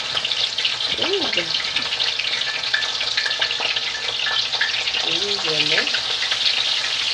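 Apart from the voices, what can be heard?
fish frying in oil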